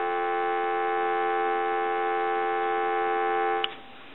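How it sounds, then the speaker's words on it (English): A steady telephone dial tone hums evenly for several seconds, clear and close, then cuts off with a small click near the end. "Give you some dial tone."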